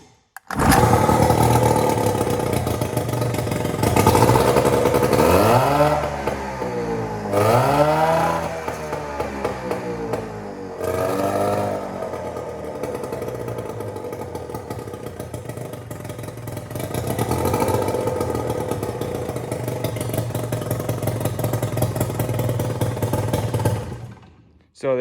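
Outboard motor for a 1972 Alumacraft 14-foot row boat cranking and catching, then revving up and down in loud rising and falling sweeps, dropping briefly before settling into a steady run. A voice can be heard in places.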